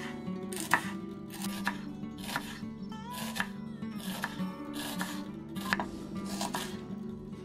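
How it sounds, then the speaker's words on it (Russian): Repeated knife strokes slice through an onion into thin half-rings on a cutting board, a steady rhythm of sharp cuts with board clatter, close and fairly quiet. "Лук нарезаю тонкими полукольцами."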